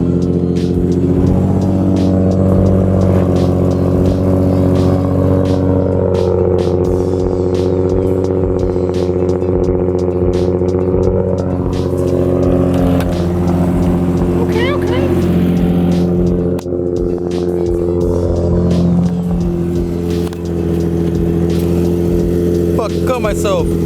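A Nissan 350Z engine with an ISR Y-pipe exhaust drones loudly and deeply, with the revs shifting up and down in a continuous close-up rumble.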